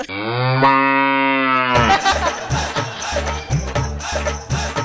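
People on a comedy stage imitate buffalo mooing, first a long drawn-out low moo held alone, then several shorter repeated moo calls over a loud, noisy background.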